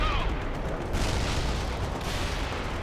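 Gunfire from a Bradley fighting vehicle in the Cold War strategy game World in Conflict: Soviet Assault, a continuous dense roar of weapons fire and booming impacts with rougher pulses near one and two seconds.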